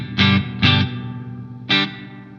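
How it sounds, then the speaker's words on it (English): Electric guitar played through a spring reverb on a Two Notes Torpedo CAB M, three loud picked chords with a splashy, drippy tail ringing out between them. "This was a spring reverb"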